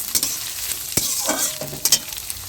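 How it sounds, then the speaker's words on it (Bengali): Onions fry in oil in a wok for birista, a close sizzle punctuated by brisk stirring clatters and scrapes of a utensil against the metal. "এই যে বেরেস্তার জন্য এখন পেঁয়াজগুলো ভেজে নেবো।"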